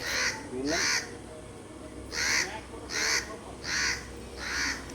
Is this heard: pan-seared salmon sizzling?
no